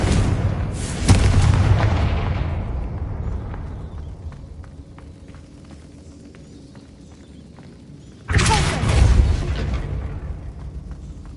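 Two Confringo blasting spells go off in Hogwarts Legacy, each a sharp, heavy explosion with a rumbling tail, the first fading slowly into quiet before the second bursts in just as loud.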